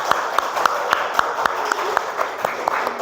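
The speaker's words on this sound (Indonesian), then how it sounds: "Oke, tepuk tangan untuk kelompok tutuwuhan." Applause for a group of students, a fairly small crowd clapping close by with distinct, regular claps standing out from the steady patter.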